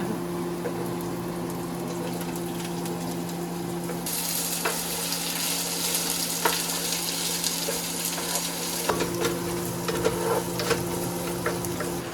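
Panch phoron spices are tipped into hot oil and sizzle, a steady close crackle that swells suddenly midway and carries on with small pops and stirring scrapes, no voices.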